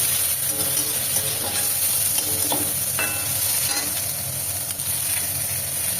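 A medium-sized tomato fries in a pan with ginger and garlic for a spinach and pea curry, giving a steady, loud sizzle with occasional stirring scrapes and crackles throughout.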